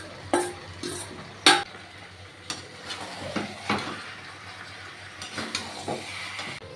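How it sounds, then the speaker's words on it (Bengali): Jackfruit and shrimp stir-fry together with potato in a pan. Intermittent scraping and clattering from the spatula sounds over a low, steady sizzle. "এবার আমি ইঁচড়গুলো দিয়ে ভালো করে কষিয়ে নেব।"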